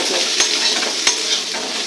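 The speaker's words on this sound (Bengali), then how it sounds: "ফুলকপি ভাজা হচ্ছে" Cauliflower frying in a pan sizzles steadily and close, broken by two sharp scrapes of a stirring utensil.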